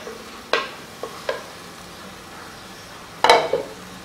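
Onions are stirred into hot oil for mutton karahi, a soft sizzle under a few distinct scrapes and clinks of a spoon against the pot.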